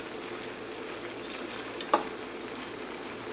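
Garlic shrimp scampi cooking down in a pan, a steady close sizzle and bubbling that runs throughout, with one small clink near the middle and no voices.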